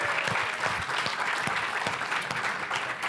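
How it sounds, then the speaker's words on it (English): A dense, steady wash of audience applause honoring the judges at a speaker talent competition, many hands clapping continuously at full volume with a faint murmur of the crowd underneath. "can we have a round of applause for our awesome judges,"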